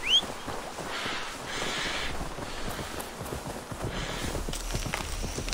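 Horse hooves clop in Assassin's Creed Valhalla, soft irregular footfalls on the ground mixed with a bird caw near the start and light ambient game noise.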